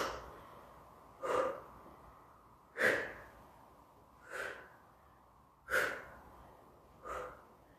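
Heavy rhythmic breathing from someone in a cardio step and jump-rope workout, with five or six forceful breaths and exhalations spaced roughly a second and a half apart, close up with no talk.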